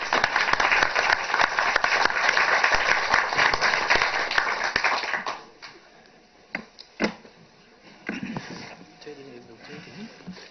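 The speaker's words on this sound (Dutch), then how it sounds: "En een applaus." Applause in a municipal council meeting in Ommen after an appointment, a dense round of clapping for about five seconds that stops abruptly, followed by scattered taps, shuffling and faint voices in a quieter room.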